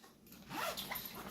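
A small zipper pouch on a Milwaukee Packout backpack is unzipped in one short, close rasping pull lasting about a second, with no talking.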